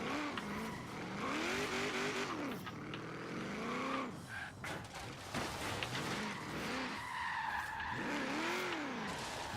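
A car drifting in the racing game Forza Horizon 3, its tires squealing in long rising and falling wails over a steady engine drone, loud and continuous.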